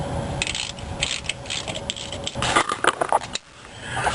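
Ratchet wrench clicking as it turns a 1/2 inch bracket bolt on a car's AC system, a close, steady series of quick mechanical clicks and rubbing sounds that stops abruptly near the end.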